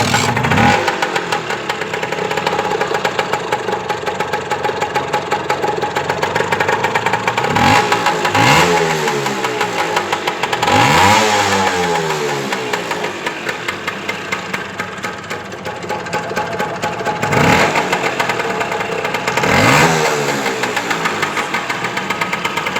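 A Lambretta scooter's two-stroke engine runs loudly and continuously during a tuning run, with repeated rising and falling revs throughout and no talking.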